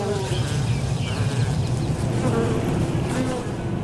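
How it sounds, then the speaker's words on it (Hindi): Bees in a Nepal jungle buzz in a continuous, droning swarm, with faint bird calls and other outdoor sounds mixed into the background. "मधुमक्खी की कुछ आवाजें हमें एपिडेमिक साउंड से मिले"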